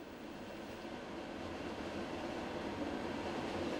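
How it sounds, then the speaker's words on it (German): A Heilbronn Stadtbahn S4 light rail train stopping in front of the main station in the city, giving a steady, continuous rumble and hum that holds loud throughout, with no voices. "Die Bahn hält vor dem Hauptbahnhof, ist also schon Teil des städtischen Verkehrs."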